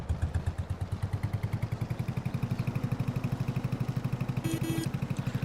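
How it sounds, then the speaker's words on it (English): A tractor engine in Farming Simulator 22 cranks and settles into a rapid, even chugging idle, heard close and steady, with a brief higher mechanical whine near the end. "I need to wait for the bloody tractor to start up again"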